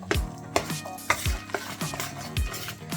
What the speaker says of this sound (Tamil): வெங்காயத்தை கடலைப்பருப்புக்குள்ளே போட்டு நல்லா கலந்து விடணும்